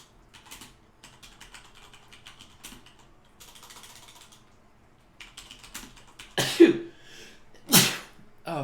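Soft keyboard typing clicks, followed by two sharp, close sneezes a moment apart, then more light clicking.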